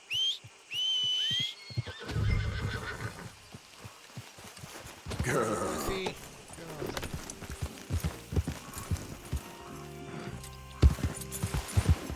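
In Red Dead Redemption 2, a horse whinnies in a couple of short high calls, followed by hoof clip-clops and shifting game sounds, with a person talking over parts of it.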